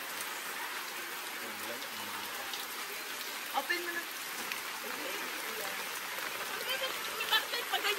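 Heavy rain pours steadily at a birthday gathering in Las Piñas, a dense continuous hiss with a few louder splashes, while people talk intermittently over it.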